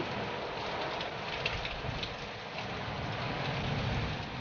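Steady rain falls continuously, a dense even patter close by with no voices, holding at the same level throughout.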